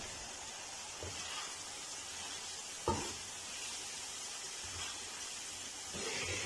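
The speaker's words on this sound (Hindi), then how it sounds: "कुछ देर के ये मसाले के साथ अंडों को भूनेंगे" Eggs fry with spiced masala in an oiled pan, giving a soft, steady sizzle and hiss throughout, with a few faint knocks of a utensil against the pan.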